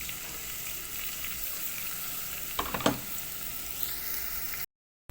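Chopped onion sizzles in a hot pan, a steady close crackle with a brief burst of louder stirring scrapes partway through before cutting to silence.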